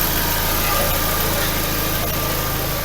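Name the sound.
car engine idling with new exhaust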